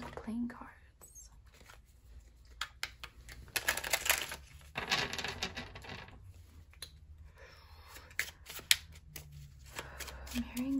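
Alice in Wonderland playing cards being shuffled close up, soft riffling and flicking bursts in quick clusters, quiet and intimate, with occasional light taps between them.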